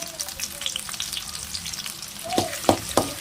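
Small onions (shallots) fry steadily in hot oil for a chicken curry, a continuous close sizzle with a few louder crackles and stirring scrapes near the end.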